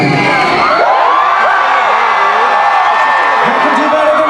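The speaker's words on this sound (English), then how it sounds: "What I want from you guys right now is the loudest scream possible for the crew." A concert crowd at Rock The Universe 2015 screams and cheers for the crew, a loud, sustained roar of whoops and shouts that swells and holds throughout.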